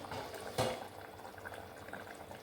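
Vegetable kurma simmering in a pot on the stove gives a soft, steady bubbling and gurgling, low and continuous, with one brief louder pop near the start.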